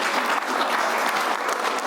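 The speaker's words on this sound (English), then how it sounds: "Let's have one more round of applause for" A crowd at the Sam Adams Award ceremony for a Gaza aid whistleblower gives dense, continuous applause, loud and close throughout.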